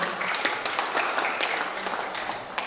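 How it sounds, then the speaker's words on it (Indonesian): A workshop audience breaks into steady applause, many hands clapping together in a dense, sustained patter that carries on for a few seconds. "Beri tepuk tangan untuk kita semua."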